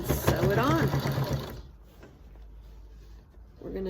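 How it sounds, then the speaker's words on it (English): A sewing machine stitches binding onto fabric in a quick mechanical whir with a rising whine under talk, then stops, leaving near quiet before it starts again. "Take it to the sewing machine and sew it on."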